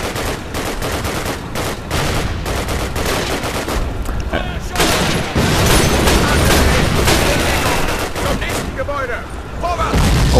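Street combat in Call of Duty: United Offensive: dense, continuous rifle and machine-gun fire mixed with heavy artillery booms, loud and close, with no let-up over the whole stretch.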